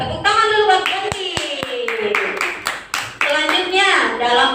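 Kindergarten children at a quiz contest give a few scattered, sharp claps for a contestant, mixed in with ongoing child and adult speech.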